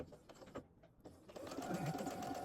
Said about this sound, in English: We're just going to sew right down the side here.